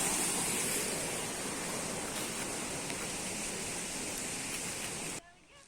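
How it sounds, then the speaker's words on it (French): A loud, noisy waterfall roars steadily nearby in November, a dense broadband wash of falling water that holds constant before dropping off abruptly near the end. "c'est quand même assez bruyant, hein, la cascade là"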